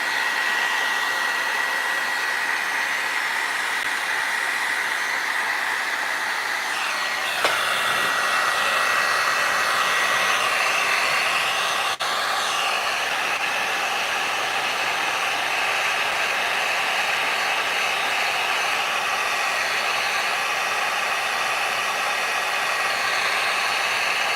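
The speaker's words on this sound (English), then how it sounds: "So let's go ahead and dry it with the dryer." A heat gun blows with a steady, loud whooshing hiss that runs on without pause, drying crackle paste.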